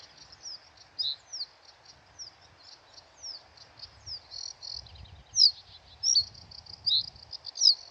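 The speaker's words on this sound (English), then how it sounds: "it became a little bit more of a challenge for the birds to sit on their perches singing." Small songbirds such as reed buntings and meadow pipits sing from perches on blustery Staines Moor, a string of bright, thin chirps and short phrases repeated close by, with faint wind buffeting underneath.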